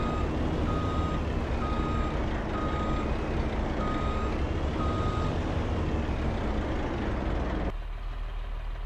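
Semi-truck in the Farming Simulator 25 video game reversing into a shed, with a steady, loud repeating reversing beep over a continuous engine rumble that cuts off near the end.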